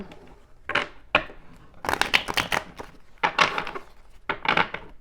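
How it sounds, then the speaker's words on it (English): A deck of tarot cards is shuffled by hand in four distinct bursts of crisp riffling and flicking, close and clear with short quiet pauses between them. "One more shuffle."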